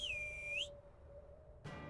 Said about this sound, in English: Jorah re-emerges through the gates and whistles at his captains, waving a beckoning arm